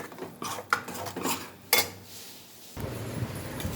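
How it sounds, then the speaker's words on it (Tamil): Cooked rice being stirred into masala in a pan for homemade fried rice, a few close scraping and clinking strokes of a spoon against the pan with faint sizzle between them. "இப்போ இதில் வந்து சாதத்தை போட்டு கிண்ட வேண்டியதாங்க"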